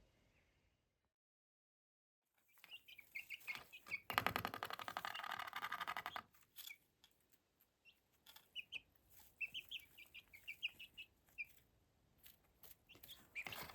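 Small chicks chirp and cheep in a sunny outdoor patch, with repeated high peeps in bursts and a brief loud rustling burst partway through.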